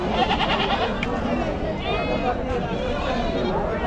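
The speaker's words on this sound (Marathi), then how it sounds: "ह्याच्यामध्ये शेळ्या बोकड सगळे मिक्स असतं ते." Goats and billy goats bleat at a busy livestock market in Chakan, Maharashtra, with calls rising over a dense crowd murmur and people talking throughout.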